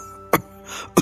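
A man coughs twice, each a short, sharp burst about half a second apart, with a quieter throat-clearing rasp between them, close and alone with no talk.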